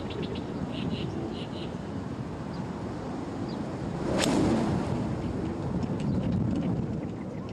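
A headwind buffets a golf course during a women's professional tournament round, gusting as a faint, broad rush that swells briefly midway, with occasional distant sounds in the background.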